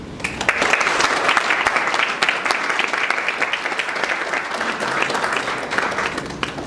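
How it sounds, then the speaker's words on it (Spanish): Steady audience applause rises after a talk on autism diagnosis, a crowd of mothers and teachers clapping warmly and evenly for several seconds before tapering slightly. "pido otro aplauso no para mí, sino para ustedes, madres y profesoras"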